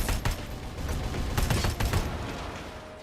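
A turret firing in the video game RoboCop: Rogue City, a steady run of loud, closely spaced shots that eases off slightly toward the end.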